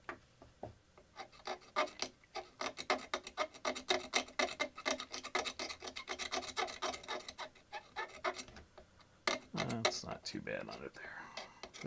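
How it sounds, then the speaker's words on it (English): A dirty Macintosh IIsi power supply part is scraped by hand under a microscope, giving a steady run of close, rasping strokes in quick rhythm. Brief speech comes in near the end. "it's a lot easier for me to scrape looking in the microscope"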